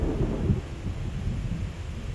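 Steady rain with low, rolling thunder rumbles continuously on a rainy day, a dense wash of noise with no speech.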